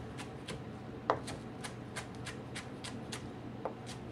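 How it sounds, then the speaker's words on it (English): A knife chops a green onion into little rounds on a cutting board, a quick even run of crisp close taps about three per second over a faint steady background hum. "I cut the tips and tails off my green onion, also called a scallion. I'm going to cut it into little rounds."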